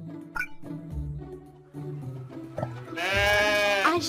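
A sheep bleats, with several wavering calls that build to one long, loud, quavering bleat close by, alongside faint clinking.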